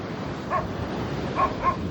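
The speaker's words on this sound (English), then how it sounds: "Oh, the dog that's barking, bless him." Beside the beach shacks at Candolim Beach in North Goa, a dog gives three short barks, one alone then two close together, over steady background surf and ambient noise.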